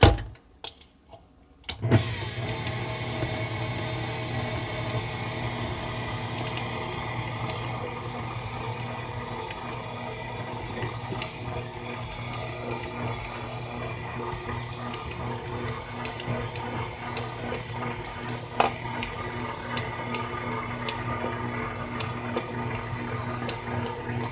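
An electric mixer whirs steadily as it mixes a Ghanaian sugar bread dough with egg, yeast and sour cream. A few clicks open it, then a continuous motor hum with faint ticking carries on, unaccompanied by talk.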